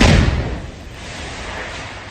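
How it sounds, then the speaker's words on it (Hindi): A single heavy boom at the start, a deep blast of a house being blown up that quickly decays into a long rumbling, noisy tail. "और उसके बाद जोरदार धमाका हुआ"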